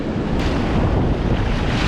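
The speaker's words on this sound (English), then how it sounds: "Where the churning waves are." Churning ocean waves at a beach roar in a dense, continuous wash, loud and close, with wind buffeting the microphone.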